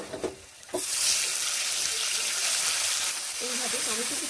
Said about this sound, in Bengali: এইভাবে টমেটো কুচিগুলোকেও ফোড়নের সঙ্গে একটুখানি নেড়ে নিচ্ছি